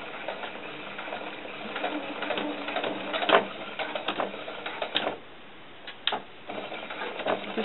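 A sewing machine stitches a doll coat seam, running steadily for several seconds with a dense mechanical whir and ticking. There are brief pauses and clicks near the end, and no talking.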